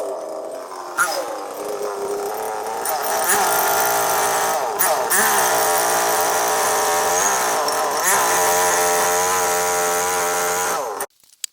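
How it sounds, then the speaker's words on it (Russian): A petrol chainsaw rips lengthwise through a log to cut slabs, starting up then holding a loud, close, steady snarl with pitch dips as it bites, stopping abruptly at the end. "Распустить дерево, как оказалось, не так и сложно, с помощью бензопилы."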